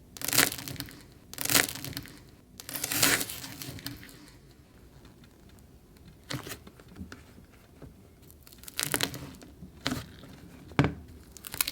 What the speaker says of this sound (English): it has some cracking clay on top that you get to crack yourself